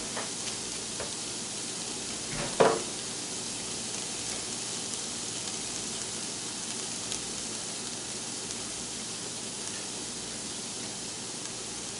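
Onions sautéing in a pan with salt and pepper, giving a faint, steady sizzle throughout with one brief clink partway through.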